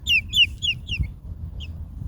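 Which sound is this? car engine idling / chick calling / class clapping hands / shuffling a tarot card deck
chick calling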